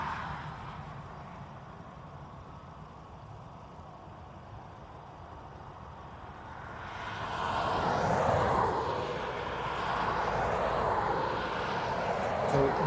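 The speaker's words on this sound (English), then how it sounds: "ATR on taxi now." An ATR turboprop taxis at Dublin Airport, its distant, steady engine drone swelling louder about halfway through and staying strong to the end.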